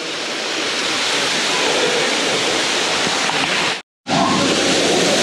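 A Hawaiian waterfall roars steadily with broad, rushing white noise, loud and close, briefly cut to silence for a moment before resuming.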